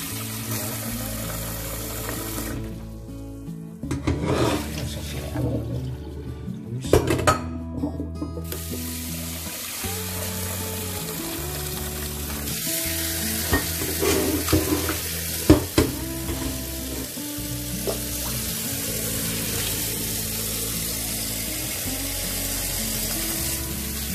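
Roasted grasshoppers poured into a basin and washed with water: steady running and splashing water with scraping and stirring, continuous and close throughout.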